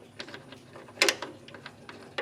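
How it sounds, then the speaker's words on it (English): Nut being tightened onto a tailgate shock absorber during installation: a few close, sharp metallic clicks and ratcheting ticks, one louder burst near the middle, with no talking. "now I'm just going to tighten this down"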